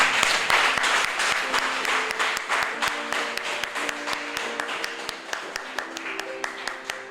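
A church congregation claps hard and steadily in a fast, even rhythm throughout, loud and close, with a held tone sounding beneath the applause.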